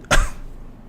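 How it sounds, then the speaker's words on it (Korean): A single sharp cough from a man with a sore throat, close and fairly loud, in a quiet indoor recording with a brief fading tail afterward. "중간에 이런 기침 소리 같은 것들이 좀 거북하셨을 텐데"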